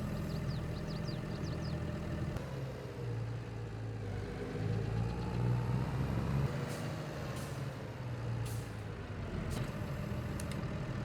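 A John Deere tractor engine in Farming Simulator 22 drones steadily at a low pitch, shifting in load and pitch midway, with occasional faint clicks and hisses over the continuous hum.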